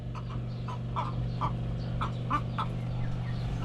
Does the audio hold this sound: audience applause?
no